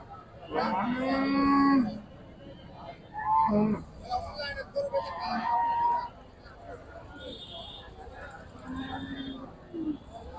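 Cow at a busy livestock market selling pregnant cows gives several loud, close, drawn-out moos, with shorter lows following, over a background of crowd chatter and people talking nearby.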